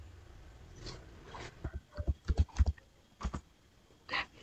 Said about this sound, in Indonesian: saya akan masukkan password terlebih dahulu ya